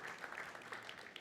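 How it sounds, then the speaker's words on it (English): A conference audience at a London tech innovation event gives brief, faint applause, a soft wash of clapping lasting about a second. "Round of applause."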